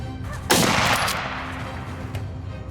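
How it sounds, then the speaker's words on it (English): A single loud rifle shot cracks out during a wild boar hunt in tall grass, followed by a long decaying echo and rumble that fades into the quiet outdoors. "Thomas took careful aim and squeezed the trigger one last time"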